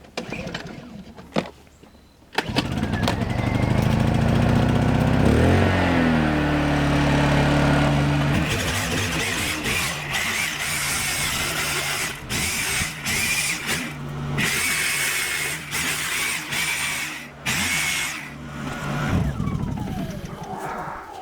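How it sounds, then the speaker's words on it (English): A loud, steady reciprocating saw cuts down the middle of a goat carcass, grinding continuously for most of the clip, its pitch shifting as it bites, with brief pauses near the end. "so now I have my Sawzall here"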